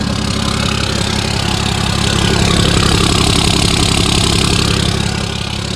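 12-valve engine idling after a cold start, a loud, steady, close rumble holding evenly throughout with no other sounds.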